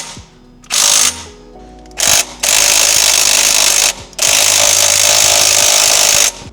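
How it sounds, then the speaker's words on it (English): An impact wrench hammers at the crank bolt of a Mitsubishi Evo 9 in several loud bursts, each a harsh, rapid rattling lasting one to two seconds, separated by brief pauses. "getting the crank bolt out, which is a 22 mil on the impact"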